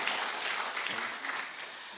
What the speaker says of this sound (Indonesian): Boleh tepuk tangan buat Tuhan.